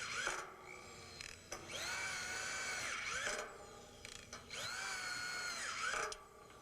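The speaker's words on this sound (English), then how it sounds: "put the remaining frame screws into place until each has 4 screws" A power drill drives frame screws into the wall and roof assemblies of a model building in three rising and falling whirring bursts, each winding up and down, close and moderately loud with short pauses between.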